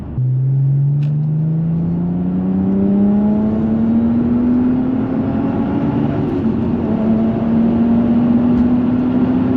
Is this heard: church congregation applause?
no